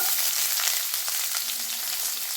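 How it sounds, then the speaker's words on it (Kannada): Curry leaves and onion dropped into hot oil with mustard seeds already spluttering, giving a steady, close, loud sizzle and fry with a few faint crackles throughout and no talking. "ಈಗ ನಾನು ಎತ್ತಿಟ್ಕೊಂಡಿರೋವಂಥ ಕರಿಬೇವು ಸೊಪ್ಪು ಹಾಗೆ ಈರುಳ್ಳಿನ ಹಾಕ್ತಿದ್ದೀನಿ"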